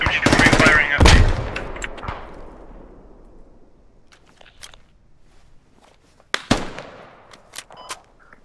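An MG3 machine gun fires in the Squad video game: a loud rapid burst up close, trailing off into distant scattered shots, then another sharp cluster of reports near the end.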